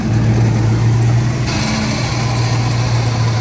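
A 2001 Ford F-150 with a 5.4-liter V8 idling under an open hood, a loud, close, steady low rumble with an even hum and no talking.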